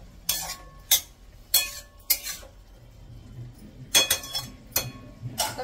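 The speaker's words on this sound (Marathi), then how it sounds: "तर आता इथे मी याच्यावर झाकण ठेवते." A metal lid set onto a cooking pot on a stove: a few sharp clinks and clatters spaced apart, near and fairly loud over a quiet kitchen background.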